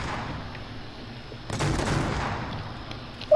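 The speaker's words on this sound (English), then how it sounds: "This is just heavy shotguns." Heavy shotgun blasts in a Fortnite match burst out in a dense, rumbling cluster partway through, over steady game ambience, with a sharp final shot at the very end.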